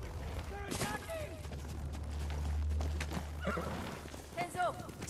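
Horses in the Ghost of Tsushima video game neigh and whinny amid a battle scene, with clip-clopping hooves, a low rumbling backdrop and game voices talking over it, two louder whinnies near the end.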